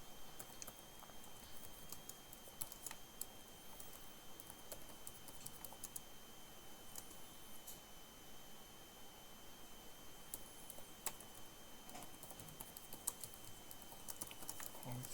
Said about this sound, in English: Sorry, just typing this out.